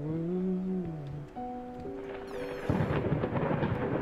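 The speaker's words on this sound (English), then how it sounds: "I love this storm going on." A thunderstorm in the video game Layers of Fear sounds as a deep rolling thunder rumble that swells into steady rain hiss, with tonal eerie game sounds layered over it early on.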